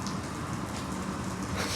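Steady rain falls outdoors on a rainy day, a dense, even hiss with patter that holds at a constant level across the short stretch, with no voices over it.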